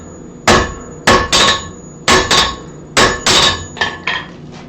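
Hammer blows on a steel billet while drawing it out at the forge: eight sharp metallic strikes, some in quick pairs, each ringing briefly before the next, loud and close with no talking.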